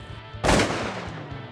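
A shotgun fires number 5 shot at ducks during a Louisiana duck hunt, one loud close blast that cuts in abruptly and rings out into a decaying tail over low background noise.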